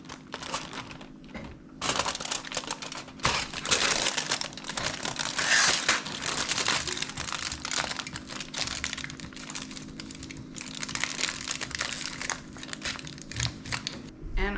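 Aluminum foil packets crinkled and folded by hand while campfire meals of sausage, peppers, onions, potatoes and carrots are assembled; close, busy rustling and crumpling in irregular bursts with a voice talking over part of it.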